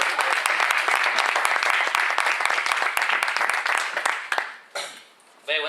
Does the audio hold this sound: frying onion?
no